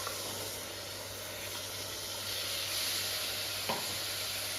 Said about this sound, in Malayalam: ഇതും കൂടി നല്ലപോലെ ഒന്ന് വഴറ്റിയെടുക്കട്ടെ